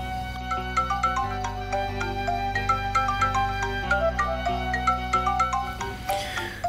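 A phone plays a melodic ringtone for an incoming call. It is a bright, repeating tune of chiming notes over a steady beat, heard up close and alone for several seconds before it stops.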